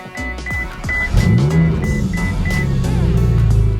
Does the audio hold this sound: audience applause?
no